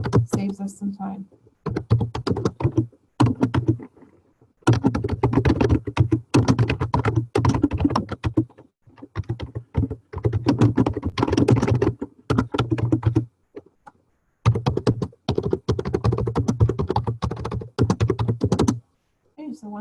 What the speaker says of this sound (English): You just type the numbers, just like in the phone number.